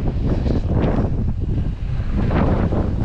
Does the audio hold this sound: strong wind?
yes